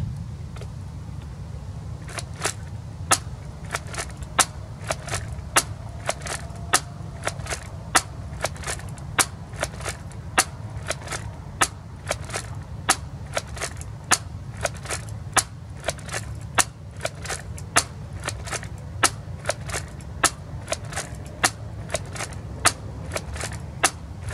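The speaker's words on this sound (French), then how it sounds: "Test de distance du blaster de chez NF Strike." An NF Strike Nerf-style foam blaster fires over and over during a distance test, sharp snapping shots about once a second, steady and close, over a low background rumble.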